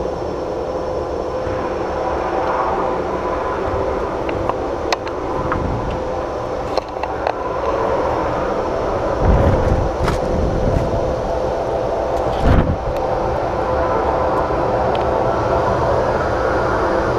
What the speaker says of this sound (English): Fans are ramping up.